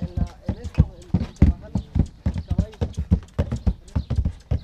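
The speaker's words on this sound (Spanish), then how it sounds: "donde trabajan los caballos este, la trampa" Horses working at a ranch clip-clop steadily over the ground, a close, rhythmic run of hoof strikes.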